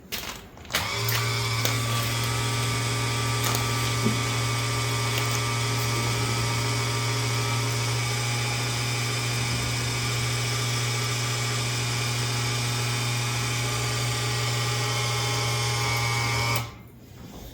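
The nose gear of a Cozy MKIV homebuilt airplane retracts during a maintenance gear swing, driven by an electric motor that whirs in a steady, droning hum for about sixteen seconds before cutting off abruptly.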